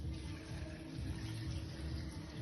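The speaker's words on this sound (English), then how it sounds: "We're going to cover that with water" Water runs steadily into a pan holding chopped carrots, potatoes and onions, a continuous close splashing and gushing flow with no voices.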